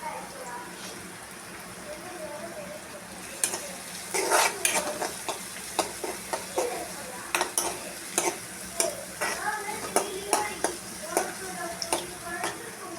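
Capsicum sautéing in a pan for fried rice, with a low steady sizzle joined midway by sharp, rhythmic clinks and scrapes of a spatula against the pan, close and fairly quiet.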